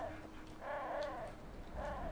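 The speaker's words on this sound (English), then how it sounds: "this sounds like a crow, but like morphed" A distorted, crow-like creature call from the Enderal game, with warbling, wavering cries in two bursts over a low background hum.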